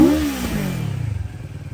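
A CFMoto CLX 700 motorcycle in sport mode gives a short exhaust rev, a loud burst that drops into a steady, close, pulsing idle.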